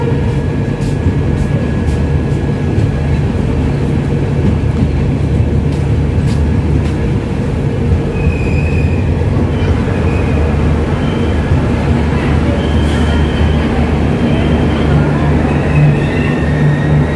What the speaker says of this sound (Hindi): now you are departing from Tangla railway station